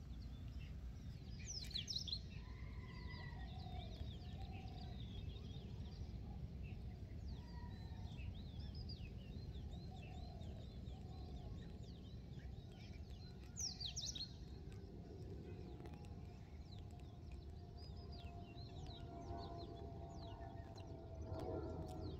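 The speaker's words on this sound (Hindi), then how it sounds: "कहीं पे मस्त आवाज है ना, ये आपको चिड़िया देखने मिलेंगी" Small birds chirp and call intermittently near a utility pole beside a road by an airstrip in the morning, faint and scattered over a steady low rumble of traffic and wind.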